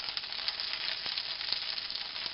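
Dollar Tree gnocchi browning in a pan sizzle with a steady, dense hiss and small crackling pops, close and constant throughout, with no talking.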